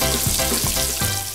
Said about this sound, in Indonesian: Habis itu kita goreng deh ke dalam minyak yang udah panas.